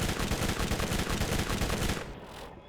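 Rapid SMG fire in the video game Borderlands, a loud, dense burst of evenly spaced shots for about two seconds that stops abruptly, followed by a brief lull and a single sharp sound at the end.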